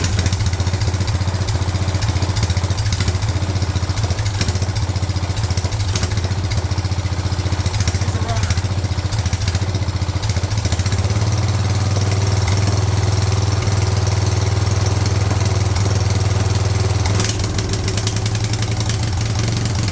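A Wheel Horse 211-5 lawn tractor runs with its manual choke engaged after sitting unused for years. The engine holds a loud, steady, close-up drone for the whole stretch, and no one talks.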